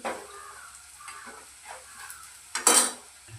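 Spices tempered in hot oil for a coconut-free sardine curry stir and scrape softly at first, then a loud, sudden sizzle bursts up near the end and fades, with no talking.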